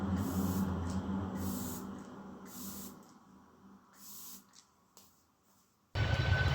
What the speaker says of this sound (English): I'm finishing with the setting spray,